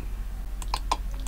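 Keyboard keys pressed at a computer while working in CorelDRAW, a few quick separate clicks close to the mic over a quiet room hum, with no talking.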